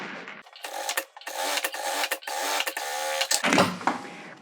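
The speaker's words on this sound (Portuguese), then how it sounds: "Vou entrar na minha máquina e vou costurar esse lado." A sewing machine stitches along the side of a zippered fabric and nylon pouch, running in several loud, steady bursts of rapid mechanical whirring broken by short pauses, with no voices.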